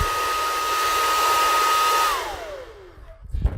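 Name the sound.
hairdryer running to thaw drywall mud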